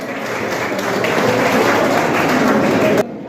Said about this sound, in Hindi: जोरदार तालियों से अपने आप के लिए एक बार तालियां बजाएं